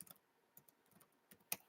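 Quiet, close-up typing on a computer keyboard: a short burst of light, irregular key clicks with a couple of sharper taps near the end, no voices.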